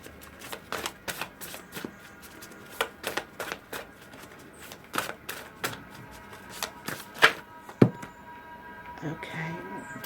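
Tarot cards being shuffled by hand during a reading, a steady run of crisp riffling and slapping bursts with a couple of sharper knocks near the end, close and fairly quiet.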